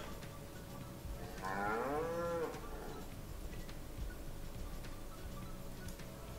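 A single cow moos once, a clear mid-distance bellow lasting about a second, over quiet outdoor background on a farm in Thuringia.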